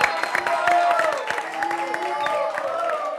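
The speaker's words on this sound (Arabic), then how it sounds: "صفقوا عليه" Audience applause and cheering from a crowd at a live music show with an orchestra in a TV studio, a dense steady wash of clapping with scattered whoops under sustained musical tones.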